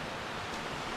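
Freedom Falls in Venango County, Pennsylvania, heard from the top of the falls, makes a faint, even rush of water, a steady distant wash of noise.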